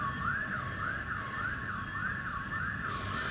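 At a decommissioned power plant, a facility alarm keeps sounding, a loud electronic siren that sweeps up and down in a regular cycle, heard alone without speech.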